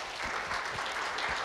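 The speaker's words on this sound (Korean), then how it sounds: "큰 박수 부탁드리겠습니다." Applause from a conference audience welcoming a startup founder on stage at a business forum, a brief steady wash of many hands clapping at moderate distance.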